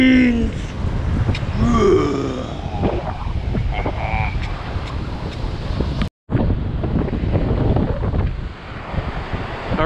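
Strong wind buffets the microphone in a constant loud roar on a beach at Topsail Preserve, with faint surf and a few distant voices underneath and a brief dropout midway.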